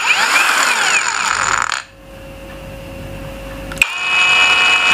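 HUJIA cordless drill from a drill and grinder kit running at medium speed, a loud whirring motor whine that cuts out partway through, leaving a quiet pause before the motor spins up again.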